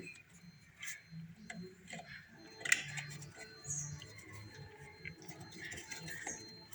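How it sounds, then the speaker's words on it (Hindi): Sparse small clicks and plastic handling sounds come from a throttle body plug being fitted on a Suzuki Cultus, one sharper click standing out as it locks, close and quiet. "ये टिक की आवाज़ आनी चाहिए, इसका मतलब ये है कि ये प्लग प्रॉपरली लॉक हो चुका हुआ है।"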